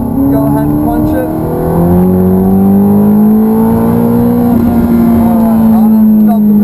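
Ferrari 430 V8 accelerating hard on the Hallett race track, a loud, close engine roar whose pitch climbs steadily through the gear, with a voice talking over it.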